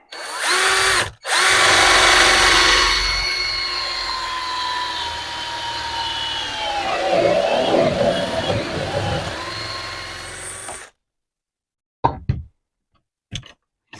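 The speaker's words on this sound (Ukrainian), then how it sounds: "Фреза глибину я вже виставив, фреза 35 Починаємо жужжати." A power drill with a 35 mm cutter, guided by a Paretool jig, bores a hinge cup hole. It whirs loudly and steadily for about ten seconds, winds down and stops, and a few sharp clicks and knocks follow.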